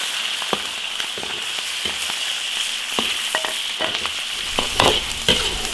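Pork belly stir-frying in a hot iron wok, a steady sizzle with intermittent scraping and tossing clinks from the spatula, no talking.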